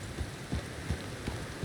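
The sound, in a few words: rain in video game Red Dead Redemption 2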